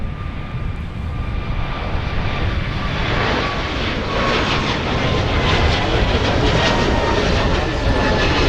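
Heavy cargo jet taxiing at Minneapolis airport, its engines giving a loud, steady roar and whine that builds slightly and holds throughout, close by and with no voices over it.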